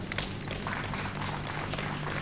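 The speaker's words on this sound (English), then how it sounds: "I think we need to give the minister a really good round of applause." Steady crowd applause for a government minister at a formal commemorative lecture, a dense, even wash of clapping that holds at a constant level throughout.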